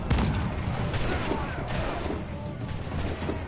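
Swivel guns fire from a ship in a PS4 naval video game, a dense, continuous barrage of gunfire and booms with no clear gaps, loud throughout.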